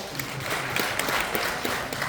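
Applause from an audience at a private taxi association training session in Seoul, a steady wash of many hands clapping throughout, moderately loud and fairly close, with no talking over it.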